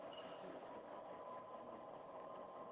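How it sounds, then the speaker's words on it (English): An Athearn model diesel locomotive's sound unit loads up, giving a steady, faint engine drone with a buzzing rattle that holds even throughout, no voices. "Now you'll hear the diesel engine load up"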